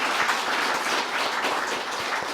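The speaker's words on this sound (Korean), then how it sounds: "우리 하나님께 한번 영광의 박수 한번 올릴까요?" A church congregation claps vigorously in praise after a choir's hymn, a dense, even wash of hand claps filling the sanctuary with no voices.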